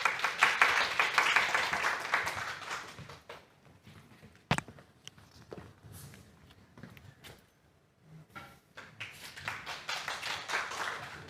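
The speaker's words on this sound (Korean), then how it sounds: "큰 박수로 맞아주세요" Audience applause welcoming a senior citizen speaker at a citizens' assembly at a welfare center, a burst of dense clapping at first that thins into scattered claps and a quiet lull before swelling again.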